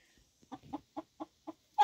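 A hen clucking softly after settling into a new coop, giving a close, quiet series of five or six short evenly spaced clucks that ends in a louder squawk.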